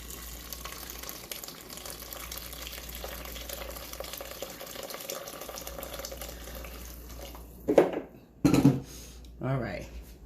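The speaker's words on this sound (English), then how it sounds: "So now I'm gonna put enough hot water to just cover the meat." Hot water is poured into a pot of oxtail in a home kitchen, a steady faint splashing stream that gives way near the end to a few louder bursts of handling noise.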